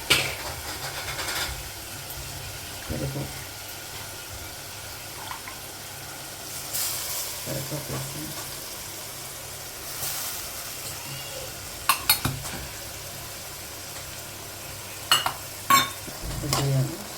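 Curry leaves, green chillies, ginger and garlic fry in a pan for fish curry, giving a low steady sizzle punctuated by sporadic scraping stirs and clinks, close by and without talk.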